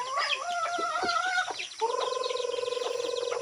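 Native hens on a Philippine chicken farm clucking close by, a few sharp squawking calls followed by a steady run of rapid rhythmic clucks.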